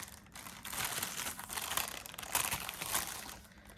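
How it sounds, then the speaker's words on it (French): A large parcel is opened and its packaging crinkles continuously and loudly up close, with rustling, crumpling plastic and paper throughout. "On va ouvrir, j'ai un beau grand paquet ici."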